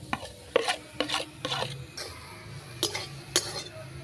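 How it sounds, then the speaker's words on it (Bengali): Grated coconut being stirred in a wok over a stove fire while making filling for patishapta pitha: a series of short scraping, rasping strokes at a steady rhythm, close and fairly quiet, with no talking. "নারকেলটা একটু নাড়া হয়ে গেছে।"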